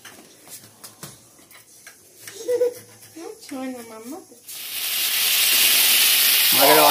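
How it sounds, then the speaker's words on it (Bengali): Sea crabs frying in a kadai, a loud steady hiss and sizzle that rises suddenly and holds after people talk nearby. "আমাদের অলরেডি ক্যাংড়া দিয়ে দিয়েছে কড়াতে ভাজার জন্য।"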